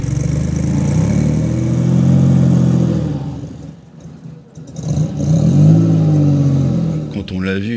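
A Renault Alpine A310 V6, built like a V8 with a 90-degree layout, runs close by with a loud, steady, throaty drone that dips briefly midway and then swells again.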